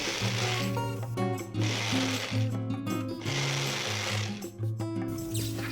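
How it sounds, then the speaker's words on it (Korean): A blender grinding pine nut sauce with vinegar, mirin, sugar, salt and minced garlic, its motor whirring loudly in surging pulses that rise and dip, close up with no talk. "식초, 맛술, 설탕, 소금, 다진 마늘을 넣고 곱게 갈아 잣소스를 만들어 주세요."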